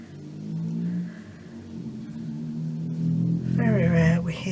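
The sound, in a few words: car driving past outside, sounding rough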